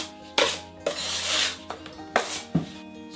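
A 16-inch flat trowel scraping and slapping drywall mud during a skim coat over tile adhesive in a bathroom remodel, several distinct close scrapes and taps in an irregular rhythm.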